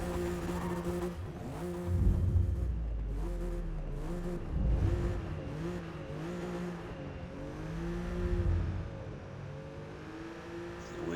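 A 2017 Alfa Romeo Giulia engine races at Mugello in Forza Motorsport, droning steadily and rising and falling in pitch through repeated gear shifts, loud and continuous.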